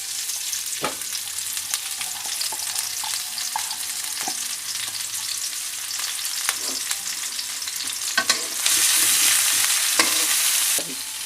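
Onion, garlic and chopped chili sizzle in hot oil for achari eggplant, a steady close frying hiss with scattered stirring scrapes that swells louder near the end.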